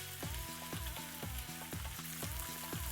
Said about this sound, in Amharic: ኮሊፍላወሩን ጨምረን ገልበጥ አድርገን ትንሽ በመጥበሻ ላይ እናበስለዋለን